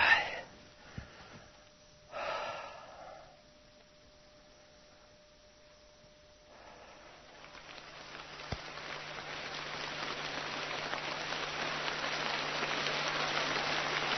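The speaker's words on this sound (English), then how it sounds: "Rain come down and rain protects me." Steady rain falling in a jungle at night, a soft hiss that swells from faint to a dense, continuous wash over the last half, with a few breathy sounds near the start and no talk.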